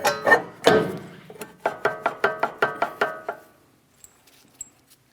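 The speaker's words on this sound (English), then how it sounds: "Let's install the brake rotor." A brake rotor fitted onto the rear hub of a 2007-2014 Ford Edge: a run of evenly spaced metallic knocks and clicks, close and crisp, fading to near silence with a couple of faint ticks.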